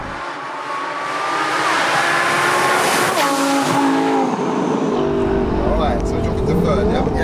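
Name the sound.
twin turbo V10 Lamborghini Huracan revving over 8,000 RPM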